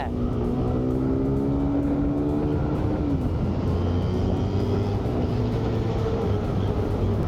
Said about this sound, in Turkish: Tek silindir olmasına rağmen sesi çok güçlü çıkıyor